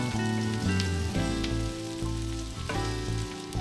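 Yakisoba noodles, cabbage and shiitake mushrooms sizzle loudly in a hot pan while being tossed, with a continuous crackle broken by repeated scraping and stirring strokes.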